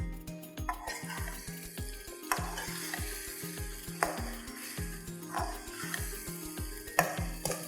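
Homemade karahi masala frying in oil for mutton karahi, a soft continuous sizzle with occasional stirring scrapes underneath a steady rhythmic low mechanical pulsing, with no talking.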